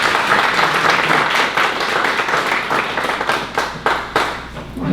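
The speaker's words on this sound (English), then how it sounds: "Another round of applause." An audience at a military breakfast event claps steadily in a warm, sustained round of applause, with dense overlapping hand claps and a few sharper individual claps standing out near the end.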